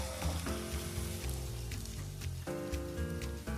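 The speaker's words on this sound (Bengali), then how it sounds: "গ্যাসের ফ্লেমটা মিডিয়ামে রেখে পেঁয়াজগুলোকে ভাজবো যতক্ষণ না পেঁয়াজটা হালকা ব্রাউন কালার আসছে।" Onions frying in a pan over a medium gas flame, giving a constant close crackling sizzle with a few soft stirring sounds and no talk.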